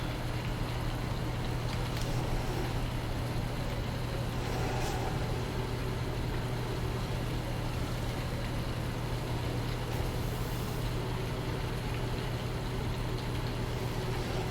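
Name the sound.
vehicle engine idling in video game Farming Simulator 19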